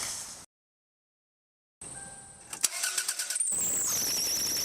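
A 1998 Toyota Camry LE with a 2.2-liter four-cylinder engine cranks over after a short pause, catches, and settles into a steady, close, fairly loud idle.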